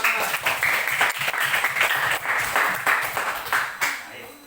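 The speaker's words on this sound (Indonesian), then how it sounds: "Bagus, tepuk tangan." Students in a classroom applaud together, producing a loud, dense patter of many hands clapping that holds steady for several seconds before tapering off slightly at the end.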